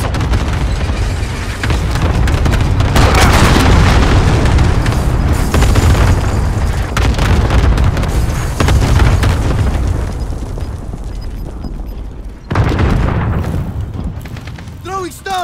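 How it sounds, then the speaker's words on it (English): Explosions from enemy cruise missile strikes in Call of Duty: Modern Warfare multiplayer: loud continuous booms and rumbling blasts fill the scene, with gunfire bursts and in-game voice callouts layered over the chaos. "Enemy cruise missile."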